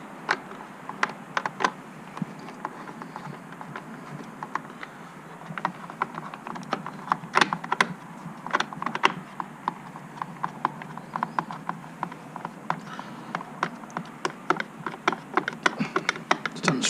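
Small screws are worked loose by hand with a screwdriver during a zip sensor replacement, giving a long series of faint, irregular clicks and ticks close by.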